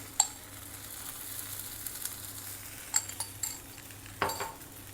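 Rice roti cooks on a lightly oiled dosa griddle with a faint, steady sizzle, punctuated by a few scattered light clinks and taps.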